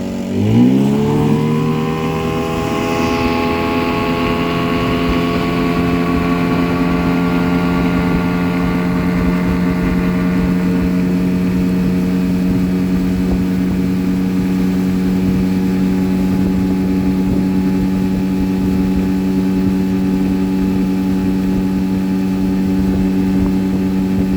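A Tohatsu 9.8 outboard on a Navigator Air 330 inflatable, fitted with a non-original Solas propeller of pitch 7, runs at full throttle. Its engine note climbs quickly at first, then holds a loud, steady drone alone throughout.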